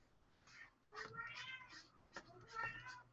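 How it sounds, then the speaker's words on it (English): A cat meows repeatedly and insistently, several drawn-out cries close by in a quiet indoor room, with faint background noise between calls. "that cat is so annoying"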